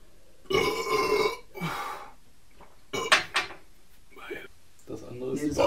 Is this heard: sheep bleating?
no